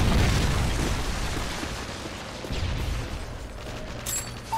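A Predator missile explodes in the MW3 video game, a deep booming blast up front that rolls off into rumbling debris, with a smaller thump and faint mechanical clicks afterward.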